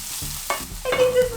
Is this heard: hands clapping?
no